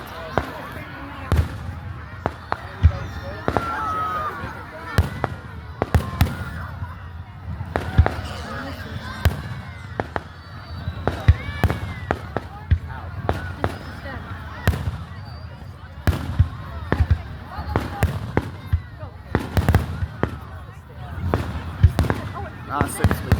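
A town's Canada Day fireworks show heard from a distance, with scattered sharp bangs and pops at irregular intervals over a continuous outdoor rumble and crowd murmur.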